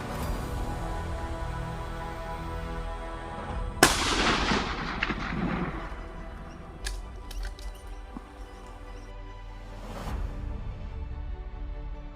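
A single loud rifle shot fired at a fallow deer on a hunt cracks sharply partway through, trailing a short echo over a quiet outdoor background, with faint knocks afterward.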